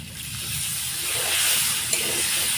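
Spice-washing water poured into a hot pan of frying potato and pointed gourd, giving a steady loud hiss and sizzle of steam that swells slightly midway and carries on for a few seconds without talk.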